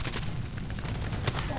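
Gunfire in the video game Far Cry 2, a dense, continuous rattle of distant shots and booms in a burning courtyard, steady and loud throughout.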